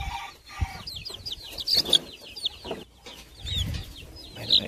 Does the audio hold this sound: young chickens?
yes